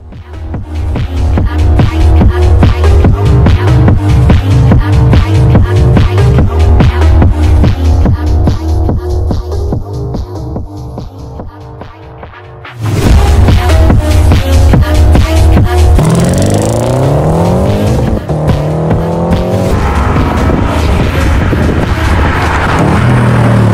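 Lexus IS-F V8 engine roaring loud and close, with a long sustained pull, a brief drop in intensity, then a hard surge back and rising revs as the car accelerates through the gears.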